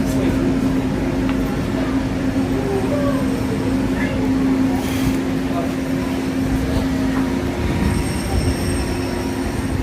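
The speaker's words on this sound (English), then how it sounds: "Please remain seated until the monorail comes to a complete stop." Disneyland monorail arriving at Tomorrowland station, a steady rolling rumble with a sustained tonal whine and faint squeals, alongside low background chatter.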